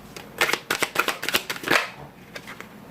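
Tarot cards being shuffled and drawn, a rapid run of crisp, close riffling snaps and flicks for about two seconds, then a few softer isolated card taps.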